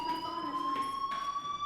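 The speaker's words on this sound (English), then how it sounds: "Hey, do you hear that fire alarm?" Fire alarm rings in Life is Strange, a continuous electronic tone with steady harmonics sounding alone at moderate volume.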